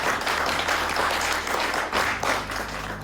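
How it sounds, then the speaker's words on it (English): Audience applause rings out for a panel at the close of a Northern Powerhouse Rail infrastructure podcast event, a steady dense wash of many hands clapping that carries through the whole stretch with a slight dip partway. "Round of applause, please, for our panel."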